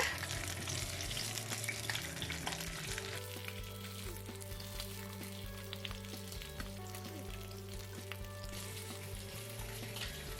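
Sun-dried fish frying in a pan with oil, a steady close sizzle and crackle running the whole time, with faint clinks and stirring and no talk.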